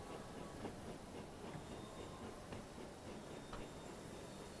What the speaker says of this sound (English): We need to put Emily outside the thing, because otherwise we're going to choke everyone with her smoke and steam